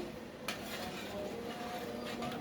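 Pots and utensils clank and scrape while lentil dal cooks with potato and tomato, a short busy stretch of close metallic knocks, one sharp clink among them, over a dense kitchen hiss.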